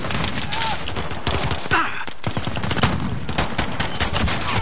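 Pistol hip-fire gunshots in a shooter game, a rapid string of sharp, close cracks mixed with game effects and occasional voice sounds.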